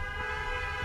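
Car horns honk in protest over a Chicago suburban neighborhood, blending into a steady, dense blare of overlapping tones that holds continuously through the short stretch at moderate distance.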